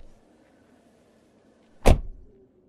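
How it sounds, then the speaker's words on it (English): A car door opens with a single sharp mechanical clunk, close and loud against a quiet background, then fades quickly. "Uncle Hugh set me down beside the car and opened the door for me to get in"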